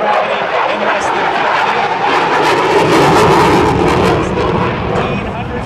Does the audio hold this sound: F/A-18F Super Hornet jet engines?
yes